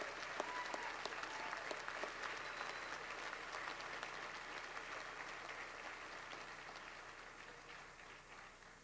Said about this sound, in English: A round of applause for those individuals.